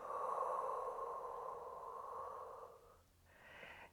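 A long, deep exhale during a seated chair Pilates pelvic floor breathing exercise, a steady airy rush lasting about three seconds, followed by a brief pause and a softer, shorter breath.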